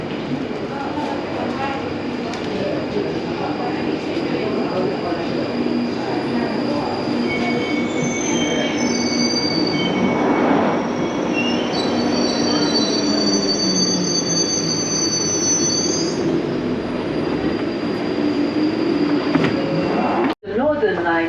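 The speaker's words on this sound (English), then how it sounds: "here's my train which I'll take to Edgware" London Underground Northern Line train pulling into Colindale station, a loud, close rumble of wheels on track with sustained high-pitched brake and wheel squeal over nearly twenty seconds before it settles.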